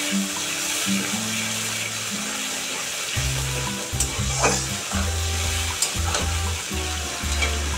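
Egg and fish curry gravy with potato frying and being stirred in a pan in a home Bengali kitchen, a steady close sizzle with scraping strokes of the spoon and a few louder clatters, no talk.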